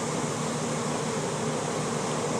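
A large honey bee swarm clustered on a brick column makes a dense, steady buzzing hum, close and continuous for a few seconds with no voices.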